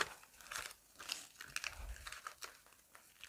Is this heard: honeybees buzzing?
no